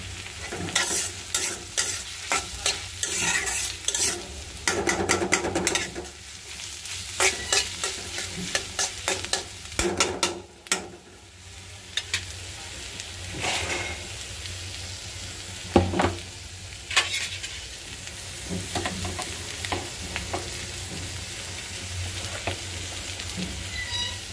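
Green chillies fry in a pan with a steady low sizzle while a utensil stirs and scrapes throughout, giving frequent clinks and scraping strokes at close range.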